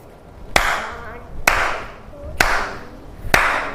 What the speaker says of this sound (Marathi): आता आपण मी टाळ्या वाजवणार आहे